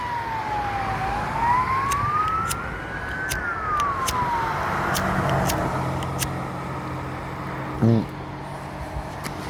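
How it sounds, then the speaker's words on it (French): A Turkish ambulance siren passing on a street, its wailing tone sweeping down and up over steady traffic rumble before fading, followed by a short low horn blast. "Les ambulances turques."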